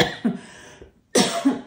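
A woman coughs in short bursts: two soft coughs, a brief pause of near silence, then a louder harsh cough pair, close and alone without speech.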